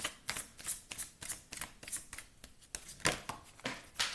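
Tarot cards being shuffled and drawn from a deck, with a rapid series of crisp papery riffles and flicks repeating in an uneven rhythm, close and moderately loud.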